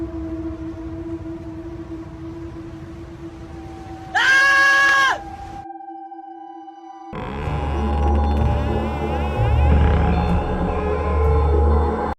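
A man lets out a brief, high, wavering scream of fright while checking a second-floor room of his house. It cuts through a low steady hum and is followed by a loud, rumbling burst of noise.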